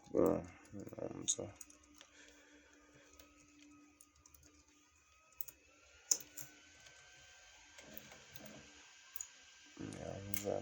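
Soft, sparse clicks of typing on a computer keyboard while entering form details indoors, faint and intermittent, with a person speaking at the start and end.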